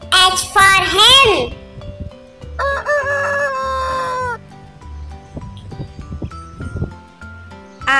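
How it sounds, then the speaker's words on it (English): A rooster crows loudly up close, followed by a hen's repeated clucking in short bursts with quiet pauses between, while someone speaks briefly in the background. "H for hen."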